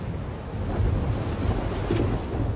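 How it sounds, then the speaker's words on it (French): A big thunderstorm front sweeping fast toward a mountain summit camp in Mongolia, heard as a low, continuous rumble with gusty wind roar, loud and steady, no voices. "un gros orage vient vers vous"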